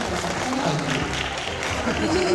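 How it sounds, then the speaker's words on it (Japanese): Audience applause at a baseball-themed mascot portrait contest between Chunichi and Chiba Lotte, a steady wash of clapping from a crowd voting for a drawing, with voices talking over it throughout. "じゃあ、クールが描いたりんちゃんがいいと思った拍手。"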